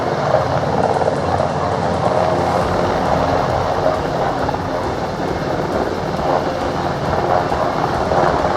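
Fire service rescue helicopter during a disaster response drill in Hapcheon County, a steady loud rotor and engine roar filling the scene throughout without letup.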